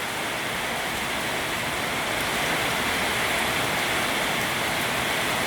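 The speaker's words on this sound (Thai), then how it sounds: "ดูนะครับฝนตก" Heavy rain pours down at a home in northeastern Thailand, a dense, steady hiss of water striking surfaces that continues unbroken and evenly loud throughout.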